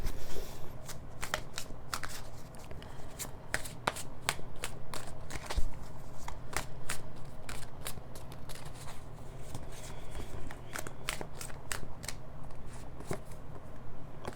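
Tarot cards being shuffled by hand, a rapid run of crisp papery riffles and snaps repeating steadily and close up with no talking.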